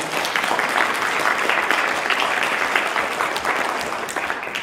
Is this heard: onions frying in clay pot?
no